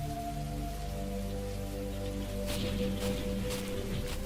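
Continuous rain pattering steadily in a cartoon storm, with a low droning hum underneath and a few louder gusty bursts of wind toward the end.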